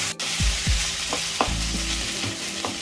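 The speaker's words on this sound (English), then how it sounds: "And fry it on high flame until the onion becomes" Onion fries on high flame in a pan for a prawn malai curry: a steady, close sizzle with repeated spatula scrapes and stirs, no talking.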